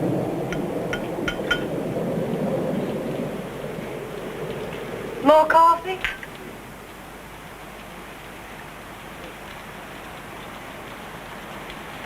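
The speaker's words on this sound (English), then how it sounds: "Storm's picking up." Steady rain pattering during a storm in a frontier town, a soft continuous wash with a brief clink of crockery and a short spoken question partway through.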